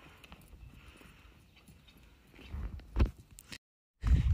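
Horses walk off at a barn on a spring day, hooves giving soft, irregular clip-clops that grow to a few louder thuds near the end; quiet surroundings, no talk.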